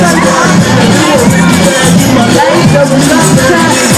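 A crowd at the Crufts 2013 dog show cheers loudly and continuously, a dense roar of voices with some whoops rising over the general noise.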